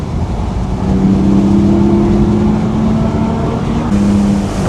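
A Porsche 718 Boxster GTS 4.0 with its naturally aspirated engine drives along a road, giving a steady, loud engine drone with a held pitch that shifts slightly near the end.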